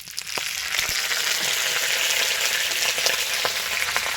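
Spice-stuffed gourd leaves fry in a wok with a steady, dense sizzle that holds throughout, broken by a few faint crackles and pops. No one speaks.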